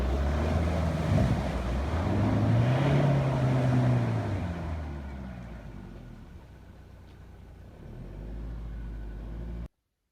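A 4x4 crawls slowly over an obstacle on an off-road trail, its engine droning and rising in pitch as it strains, then easing to a low rumble amid wind buffeting the microphone before cutting off abruptly.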